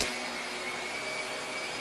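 A vacuum cleaner runs close by near a dog during a behavior-training session, giving a continuous, even high-pitched whine with a steady roar underneath and no pauses.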